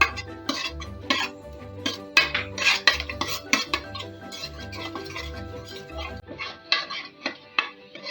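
A metal spoon scrapes and taps against a pan while wet ground masala paste sautés for a ridge gourd bhaji, with steady clinks and stirring strokes close by and no talking.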